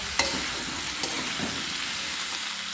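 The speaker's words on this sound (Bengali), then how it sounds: "সব কিছুকে ভালো করে আমি নাড়িয়ে নেব আর সব সবজিগুলোকে আমি কিছুক্ষণের জন্য একটু ভাজা ভাজা করে নেব" Spinach curry vegetables sizzle and fry in a pan while a utensil stirs them, with a few sharp scrapes and clinks over the steady crackle.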